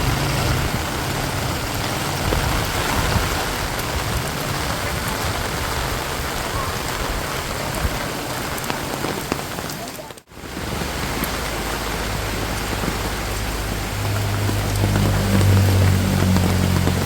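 A steady downpour of heavy rain in the Philippine countryside makes a thick, constant wash of hiss close by, with a brief dropout partway through and a low rumble building near the end.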